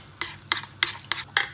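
Spoon stirring spicy chicken stew with ginger in a pot, five short scraping clinks spaced irregularly, close and moderately quiet with no talk.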